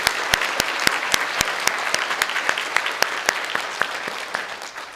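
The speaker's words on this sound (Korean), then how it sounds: "우리 박수로 축하해 주시고 축복해 주시면 감사하겠습니다" A church congregation claps during a worship service, a close, fairly sparse applause with distinct sharp hand claps running steadily through the whole stretch.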